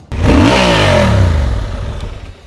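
A 2023 Honda CB750 Hornet twin-cylinder motorcycle engine revs up sharply and close, holding a loud throaty roar before winding down as the pitch falls away.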